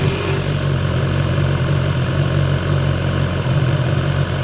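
A 2019 BMW S1000 XR Triple Black low-chassis motorcycle idles close by, a steady, loud engine drone with an even low throb that holds without change.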